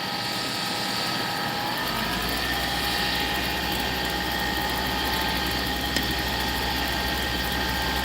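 A wood lathe spins at speed, around 2,600 RPM, producing a steady, loud mechanical whir with a constant low hum and hiss throughout.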